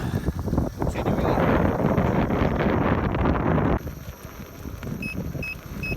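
Gusty wind buffets the microphone while riding a Gotway Monster 22-inch electric unicycle at dawn, a loud, rough roar that eases partway through, with faint beeping in the background.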